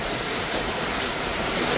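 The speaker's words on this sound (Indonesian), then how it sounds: "Wow, ombak ya kawan. Ombak." Ocean waves around a small fishing boat at sea, a loud, steady broadband wash of water and wind with no voices, close to the microphone.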